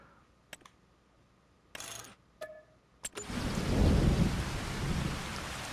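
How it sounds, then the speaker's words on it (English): Rain and thunder in the video game Farming Simulator 25: a few clicks and short bursts give way to a heavy downpour with a deep, rolling thunder rumble that builds and stays loud. "And the rain has started while we were in there doing that."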